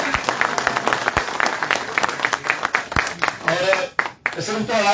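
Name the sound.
audience applause welcoming leader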